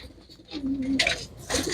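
Pigeons kept for sale give a single short coo, moderately close, with a brief clatter of dishes or a metal tray around it.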